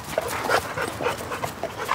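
A dog pants in quick, steady breaths, close and continuous, with a faint whimpering edge and no voices.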